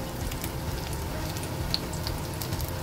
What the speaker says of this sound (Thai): ปั้นเป็นก้อนแล้วก็มาทอดนะคะ